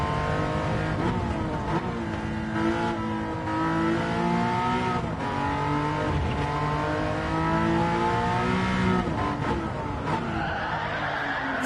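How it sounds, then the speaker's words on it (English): Porsche race car in Gran Turismo 7 on the Nordschleife, engine roaring steadily with rising and falling revs through gear changes and tire squeal while drifting, loud and continuous with no voices. "as we fly around this Porsche car."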